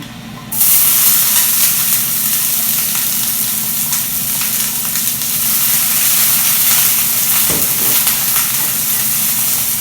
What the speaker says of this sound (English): take 1 medium onion, chop that up, and then you're going to add that to your olive oil that you've already had going